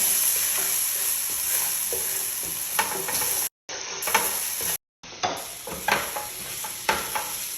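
Spiced samosa filling with ginger and garlic is stirred in a hot pan, giving a steady frying sizzle with repeated scraping strokes and a couple of brief dropouts, close and unaccompanied by talk.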